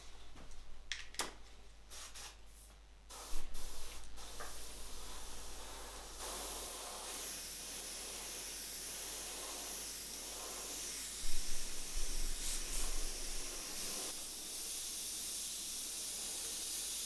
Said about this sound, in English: I can add some more clear coat and I'm ready with this paint